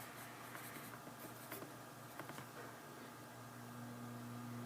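A pencil scratches faint, short strokes across paper as a word is written, quiet scribbling taps over a low room hum with no talking.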